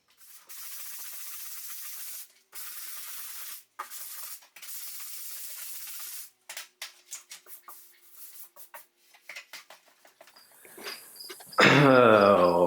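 Drywall being sanded by hand in a house under construction, the abrasive swishing in long steady strokes with brief pauses, then shorter choppy rubs, ending in a louder burst of scraping.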